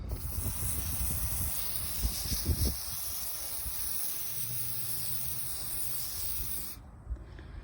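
A steady, high hiss of an aerosol can of penetrating oil spraying onto rust on a 1966 Chevy C-10 for several seconds up close, then cutting off abruptly, with faint handling thumps underneath.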